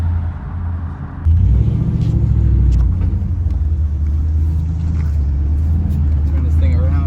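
Big block Chevy V8 in a 90s truck rumbling steadily while driving, loud and close, its deep drone rising briefly before holding an even low roar throughout.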